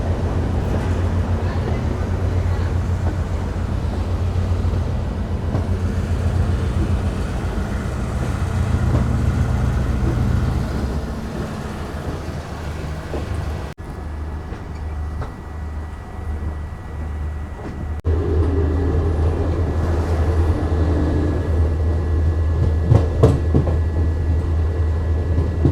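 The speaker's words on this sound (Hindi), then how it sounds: "चलिए डिपार्चर जो हमारी ट्रेन की खजूरी से वो हो चुकी है 1 मिनट के हॉल्ट के बाद।" Passenger train pulling out of Khajuri station on the Jaynagar–Janakpur line from India to Nepal, a steady low rumble and rattle of carriages with a brief quieter lull midway, then the heavy rolling drone returns.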